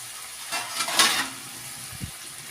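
Pan of banana flower and potato frying on medium flame, a soft sizzle with a brief metallic scrape and the light clunk of a lid set on top, close and quiet without speech.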